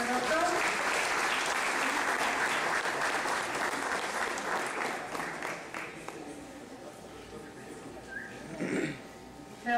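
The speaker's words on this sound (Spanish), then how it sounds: "Un fuerte aplauso, por favor, para el doctor." An audience applauding at a school health education program ceremony, steady dense clapping that fades gradually over several seconds, with a voice briefly audible near the end.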